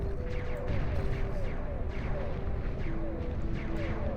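Massed Halberd artillery units in the strategy game Beyond All Reason fire at once, producing a heavy, continuous rumbling barrage of overlapping booms with a faint voice beneath.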